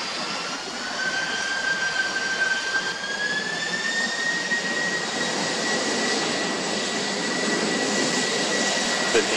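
Boeing 747-400 freighter jet engines at Miami airport during takeoff, a steady broad roar with a rising whine, loud and continuous throughout.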